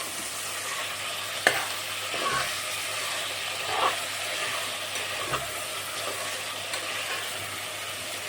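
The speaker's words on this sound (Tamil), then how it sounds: "வெங்காயத்தை வதக்கவும்." Onions sauté in oil for chicken biryani, giving a constant crackling sizzle with occasional scrapes and taps of a spoon against the pan.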